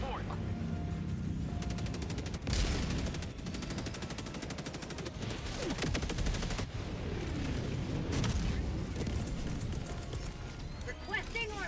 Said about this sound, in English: Oh, now I get the rail cannon.